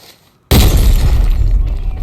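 A grenade explodes in a shooter video game: after a brief near-silence, a sudden loud, close blast bursts out and rumbles on with a heavy, noisy decay.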